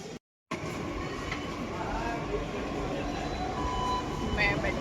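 Metro station ambience rumbles steadily after a brief gap, a broad low hum of trains and machinery with faint distant voices and occasional higher tones over it.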